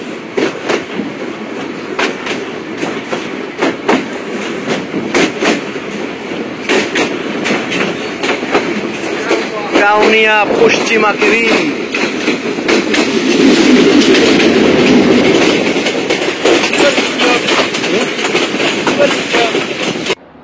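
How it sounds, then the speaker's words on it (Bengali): Rangpur Express intercity train pulling out of Kaunia Junction toward Rangpur, its wheels beating a steady clickety-clack over a loud, continuous rail rumble, with a rising tonal squeal around the middle and a brief voice speaking. "আমাদের ট্রেনটি ইতিমধ্যেই কাউনিয়া জাংশন রেলওয়ে স্টেশন থেকে তার গন্তব্যের জন্য ছেড়ে দিল রংপুর রেলওয়ে স্টেশনের উদ্দেশ্যে"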